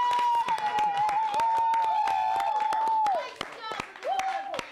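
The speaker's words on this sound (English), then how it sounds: "give yourself a round of applause so everyone can see you" A small group claps for someone on a live wrestling talk show. The clapping is scattered and fairly close, with a sustained voice-like tone running over it for most of the clip before it dies away.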